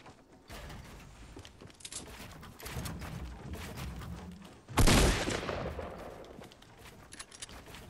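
A single loud sniper rifle shot cracks out in Fortnite Solo Showdown, sharp and booming, amid quieter mechanical clicks and scattered distant gunfire before and a fading tail after.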